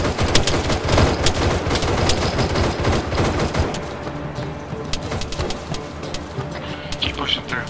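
Arma 3 gunfire near an enemy camp in Takistan: dense, rapid rifle fire rattles through the first half, then thins to scattered, more distant shots, with voices talking over the shooting.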